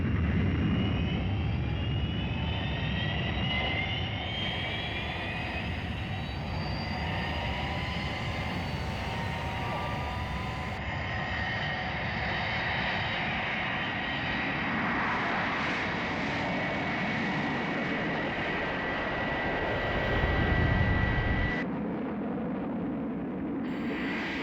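Fireflash airliner engines roar at full power during takeoff, a broad, steady jet rumble with rising whine that holds for over twenty seconds and swells briefly near the end.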